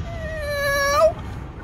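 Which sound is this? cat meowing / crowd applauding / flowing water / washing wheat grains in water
cat meowing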